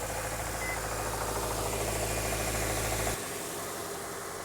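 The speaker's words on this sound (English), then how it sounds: "start the vehicle and make sure it's working good" A 2013-or-later Subaru engine idles right after a new serpentine belt and tensioner are fitted, giving a steady, close, even hum at constant loudness that drops to a softer, lower idle near the end, with no talking.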